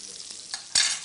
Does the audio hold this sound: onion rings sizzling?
yes